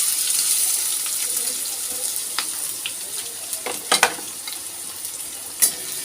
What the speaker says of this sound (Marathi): मसाल्यांसोबत कांदा चांगला परतून घेऊयात